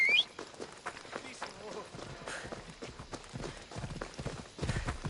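A horse gallops in Assassin's Creed Odyssey, its rapid hoofbeats drumming steadily under a brief spoken command and game ambience, with hooves louder near the end.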